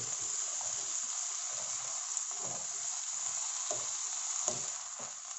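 Potatoes frying for pork menudo give a steady, close sizzle with a bright hiss and faint crackles throughout, softening slightly at the end.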